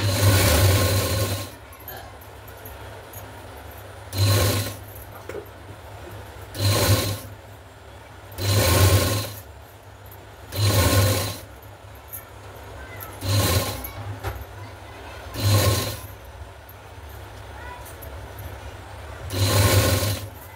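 Sewing machine running in repeated short bursts of a few seconds, about eight in all, as a piping strip is stitched onto a blouse neck, with quiet pauses between each run.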